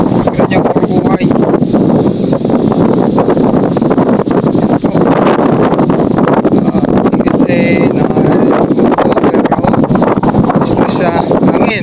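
Steady wind rushes over a rice field of heavy, heading panicles, a continuous broadband roar buffeting the microphone throughout, with someone talking intermittently over it.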